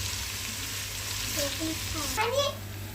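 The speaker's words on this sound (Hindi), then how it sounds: "अदरक लहसुन पेस्ट को हमने 1 मिनट तक फ्राई करना है अच्छी तरह से।" Ginger-garlic paste sizzles and crackles steadily in hot oil, with a brief scrape of stirring near the end; a voice murmurs faintly underneath.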